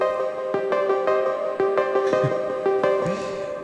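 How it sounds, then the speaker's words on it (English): A pocket-sized synthesizer plays vocal-style keys run through DSP effects, a steady sequence of sharp repeated notes over sustained harmonic tones, close and full, with no talking. "It's a pocket-sized synthesizer and it sounds like this."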